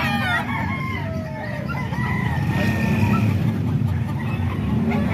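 Several Boston-bloodline gamefowl roosters crow at a farm in San Ildefonso, overlapping calls rising and falling nearby over a steady low background rumble.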